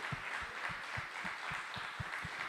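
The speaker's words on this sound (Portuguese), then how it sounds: "vamos dar um aplauso ao Senhor" Steady applause from a church congregation during a Portuguese-language service, a dense wash of many hands clapping in a regular rhythm at moderate volume, with no voices standing out.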